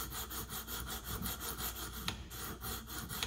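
A KME sharpening hone of 300 grit worked back and forth along a Case knife blade held in a guide rod, giving a steady rhythmic scraping rasp, close and fairly quiet, with no talking.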